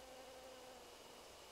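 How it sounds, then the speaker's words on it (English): Bees buzz steadily in an outdoor area of the video game Death Mark, a continuous droning hum that stays at an even level for the whole stretch with no voices over it. "There's lovely bees all around this place."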